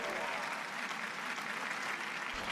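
A video game crowd cheers during Bowser's Big Blast in Mario Party 2, a continuous, faint roar of crowd noise and applause held steady from start to finish.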